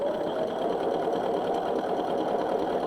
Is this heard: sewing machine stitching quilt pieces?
yes